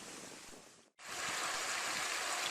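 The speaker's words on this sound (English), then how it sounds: "Now you can see how much water's running down the stream" Water running down a small stream that wells up between stones, a steady broadband rush that briefly cuts out for a moment before returning slightly louder.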